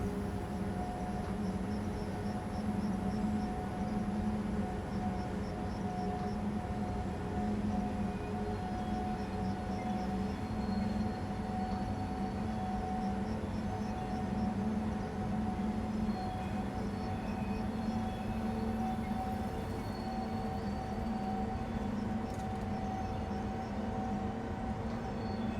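A Newag E6ACTa electric locomotive in the SimRail game rolls along steadily, giving a continuous humming drone with tonal whine and low rumble that stays even throughout.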